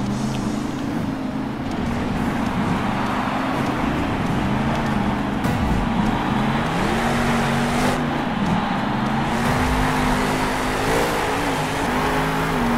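Monster truck engine in the Monster Jam: Steel Titans video game roaring loudly and throatily, revving up and down in repeated swells across a sustained, close, dense drone with no talk.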